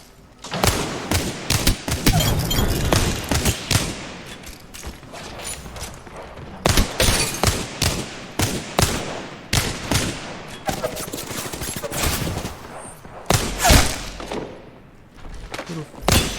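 Video game gunfire bursts out in rapid volleys and single sharp shots, loud and close, repeating throughout with short gaps between the strings of fire.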